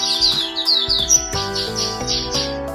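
An oriental white-eye, the pleci auri, sings a bright run of high chirps and twittering trills, close and fairly loud over a layer of sustained tonal background sound.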